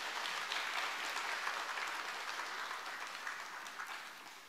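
A church congregation gives sustained applause to welcome a visiting missionary speaker, a steady dense wash of many hands clapping that slowly tapers over several seconds, with no talking.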